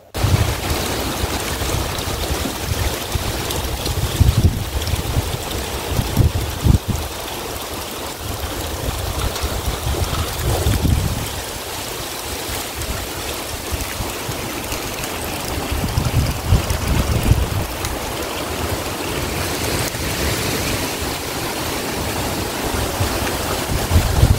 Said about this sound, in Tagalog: Pakinggan nyo yung hampas ng hangin, tsaka yung pagtulo ng tubig.